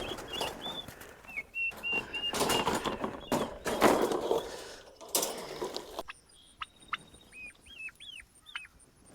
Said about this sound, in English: They are Royal Palm turkeys, and they're a heritage breed.